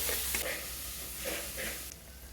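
Jaggery paste fries in a pan for chicken biryani, a soft, steady sizzle broken by a few scraping stirs, with no one speaking.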